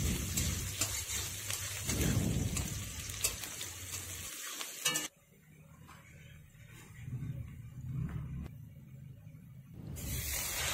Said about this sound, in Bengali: ভাজা ভাজা করে নিতে হবে।